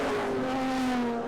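Historic touring cars race at Winton, with a loud, steady engine drone at high revs, close and sustained throughout the brief moment.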